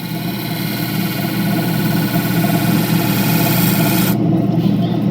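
Opal being ground on a 1200 grit diamond expandable drum wheel, a loud, continuous close-up grinding whine with a gritty rasp, easing slightly in the last second.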